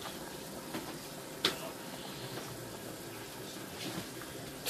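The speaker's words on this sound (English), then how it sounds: "now the water is boiling in the gandules" Water boils in a pot of gandules (pigeon peas) for Dominican arroz con gandules, a quiet, steady bubbling hiss with one brief clink partway through.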